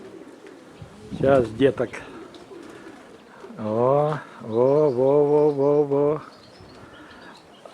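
Pigeons coo with rolling, harmonic calls in two bursts, fairly close and loud, while a person speaks briefly between them over light wind.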